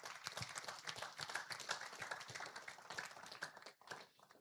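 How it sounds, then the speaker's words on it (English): An audience gives a round of applause, sounding faint and distant, with scattered irregular claps that never build into a full ovation. "Please give her a round of applause."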